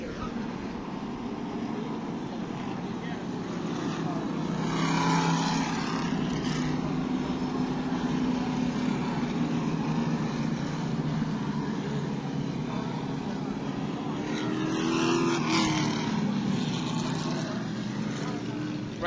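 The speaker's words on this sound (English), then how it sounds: "Right now, they're just running through the pace laps, trying to get everybody where they need to be for the start of the race." Sportsman division race cars roll through pace laps at New Smyrna Speedway as a steady, distant engine drone, swelling twice as the pack passes, under crowd and ambient noise.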